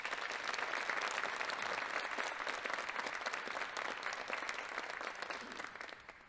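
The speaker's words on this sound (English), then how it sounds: "So let's give them a quick round of applause." Crowd applause for four-year student athletes at a high school letterman awards ceremony, sustained clapping that slowly fades toward the end.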